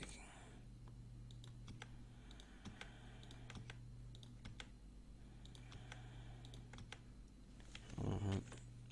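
Scattered, faint key presses on a computer keyboard during layout work in InPage, light irregular clicks over a low steady hum, with a slightly louder cluster near the end.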